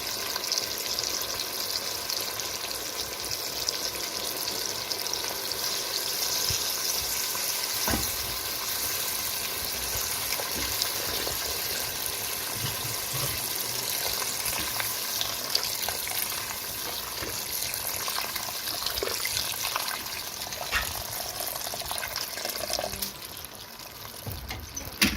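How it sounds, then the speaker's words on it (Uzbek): Water poured into a pan of fried potatoes and beans, a long steady gushing hiss mixed with sizzling that runs loud and continuous before tapering off near the end. "Va suvimizni quyamiz."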